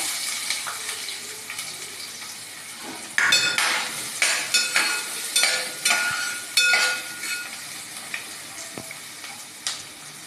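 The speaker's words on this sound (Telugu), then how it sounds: "దాంట్లో ఫస్ట్ ఆనియన్స్ అండ్ పచ్చిమిర్చి వేసేయాలి." Onions and green chillies are dropped into hot oil with cinnamon and clove and sizzle in a soft, steady hiss. A spoon scrapes and clinks against the pan in a series of sharp stirring strokes.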